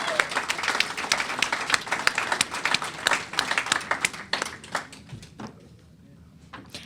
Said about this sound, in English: let's give one last round of applause to all our student presenters